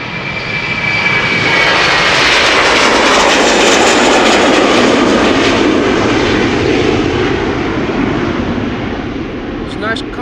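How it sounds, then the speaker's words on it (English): A Finnair Airbus A321 departs for Helsinki, its jet engines roaring loudly as they build to a full takeoff roar and then slowly fade. A voice talks over the engine noise. "let's have a look at the departure of Finnair flight 1302, A321 going to Helsinki"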